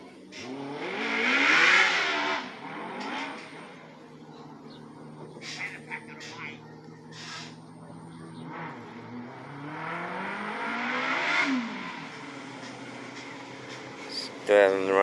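A custom two-seat buggy with a four-cylinder engine revs up and down on test runs, rising in two loud swells with a quieter idle between and a brief sharp burst near the end.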